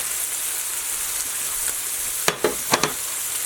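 Pork being stirred into a simmering white wine sauce with peppers and mushrooms, a steady soft sizzle running throughout with a few quick scraping stir strokes near the end, close and moderately quiet.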